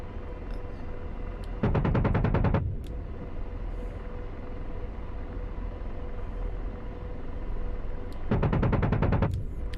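AH-64 Apache helicopter cannon firing in the DCS combat flight simulator, two loud rapid bursts of roughly a second each separated by several seconds of low engine and rotor rumble.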